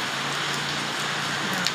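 Steady rain falls continuously in front of a house, a dense hiss of drops pattering on surfaces close by, with no voices.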